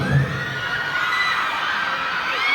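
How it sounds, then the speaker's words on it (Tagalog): A crowd shouts and cheers at a cast event in Cebu, steady and fairly loud throughout with excited whoops near the start. "Ba't may sumisigaw?"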